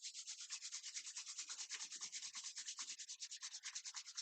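Palms rubbed briskly together during a yoga session, a continuous close swishing friction in fast, even back-and-forth strokes, fairly faint, with no talking.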